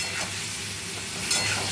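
Frying in hilsa fish oil in a home kitchen, a steady broad sizzle and hiss holding level throughout, with a brief sharper spit near the end and no talking.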